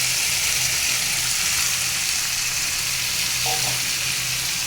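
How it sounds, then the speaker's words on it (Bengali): Jackfruit with potato greens and masoor lentils fries loudly in a pan, a dense steady sizzle running throughout with stirring scrapes mixed in, close and continuous with no voices. "এটাকে বেশ ভালোভাবে নেড়ে চেড়ে মেশাবো"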